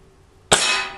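A Ruger Explorer Youth break-barrel pellet rifle fires a single sharp, loud shot, followed by a brief ringing decay over a quiet background.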